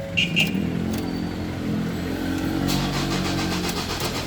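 A car engine is cranked and tries to catch but won't stay running. A steady, mid-pitched mechanical churn holds up close throughout, with a couple of brief higher clicks near the start.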